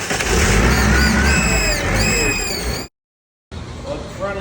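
An old campground trolley tram engine revs with a steady roar under shouted talk, cutting to a brief silence before the engine and voices return.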